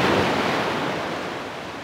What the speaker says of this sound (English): This is the beach in Aberdeen Harbour